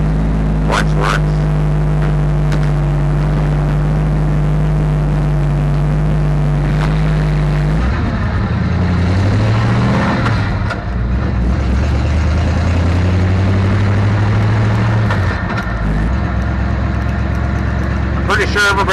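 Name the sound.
1964 Ford F350 dump truck 390 engine driving loudly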